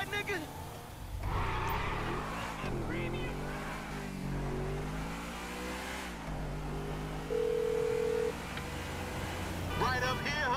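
A speakerphone call in GTA 5 made while driving: a steady car engine hums and shifts pitch, a brief electronic phone tone sounds partway through, and voices talk throughout.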